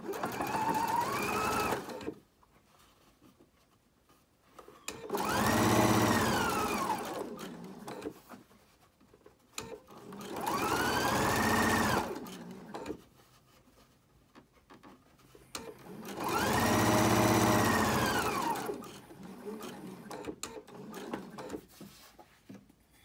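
Sewing machine stitching fabric for a face mask in three loud bursts of rapid mechanical whirring, each run lasting several seconds and separated by quiet pauses.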